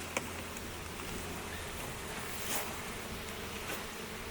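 Honey bees swarming out as they are moved into a full-size hive box, a steady dense buzz close to the microphone that holds evenly throughout with no speech.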